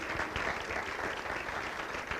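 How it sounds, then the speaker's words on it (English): An audience at an awards ceremony held at the Cleveland Zoo gives a steady round of applause, fairly faint and even, with no talk over it. "please join me in giving her a round of applause"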